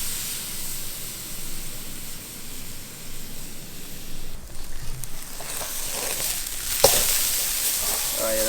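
Tomahawk steak searing on a hot kettle barbecue at the beach, a soft steady sizzle under outdoor hiss with a few faint handling knocks.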